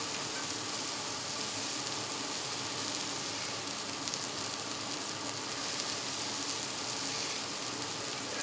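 Melted butter sizzles on a flat-top griddle under porterhouse and ribeye steaks, a steady, bright, even hiss that runs the whole time with no talking.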